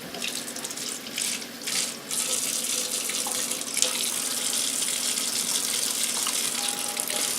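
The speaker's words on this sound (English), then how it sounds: "And then after that I will go ahead and rinse it." A makeup brush is rinsed under a running tap, giving a steady close rush of water into a sink that barely changes over several seconds.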